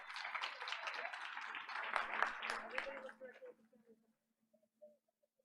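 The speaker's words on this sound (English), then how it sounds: "Let's give him a big round of applause." Applause from a school board meeting audience for a second grade student award, a dense crowd of clapping for about three seconds that fades out, leaving faint murmurs and a low hum.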